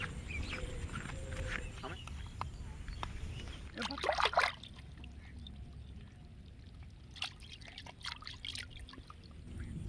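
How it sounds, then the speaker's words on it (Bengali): Fish being washed with water outdoors, pouring and sloshing splashes with a burst of running water midway, heard close beneath voices talking. "মাছটাকে ধুয়ে নিই ধুয়ে তারপর মাছটা চড়া চড়া করে কাটবো"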